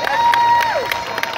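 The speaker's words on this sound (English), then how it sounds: "So give them a nice round of applause, too." A crowd cheers and applauds at a high school honor ceremony in Akron, Ohio. The noise is loud and steady for a moment, with a rising and falling whistle or whoop over the clapping.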